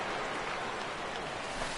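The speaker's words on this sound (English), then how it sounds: "as the rain continues to fall here" Rain falls steadily in a PS4 baseball video game, a soft, even hiss of fine drops that runs throughout at low volume, ending with a brief sharp tap.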